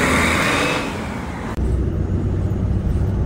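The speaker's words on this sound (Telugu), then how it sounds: "అదిగోండి వచ్చేసిందండి బస్సు." A city bus in Yokohama rolls up to a street stop, its engine a loud steady rumble with a brief hiss and drop midway before the low drone resumes, close by amid traffic noise.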